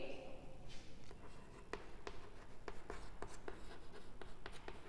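Handwriting on paper in a class lesson gives a faint, close scratching with quick taps and strokes, steady and quiet with no voice over it.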